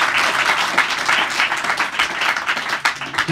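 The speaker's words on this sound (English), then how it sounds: "can I just ask you to give a warm round of applause for Katherine Borges?" An audience at a lecture breaks into warm applause, a dense, close patter of many hands clapping steadily throughout.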